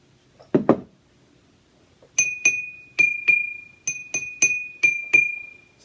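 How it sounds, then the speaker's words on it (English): After more water is poured in to tune it, a glass is tapped again. Two soft thuds are followed by about eight crisp, ringing glass clinks, often in pairs, each holding a clear sustained tone. The strikes are close-up and there is no speech. "I'm going to pour a little more water in."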